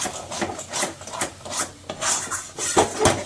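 A utensil stirs maan kochu bata, a taro paste sweetened with a little sugar, in a pan: close, rhythmic scraping strokes, roughly three per second, repeat steadily with no talking.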